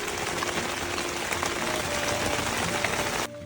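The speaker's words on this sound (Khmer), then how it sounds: "ចាប់ដើមមេឃភ្លៀងធ្លាក់ខ្លាំង" Heavy rain drums on a tent at a mountain campsite, a dense and loud roar that holds steady and then drops off abruptly near the end.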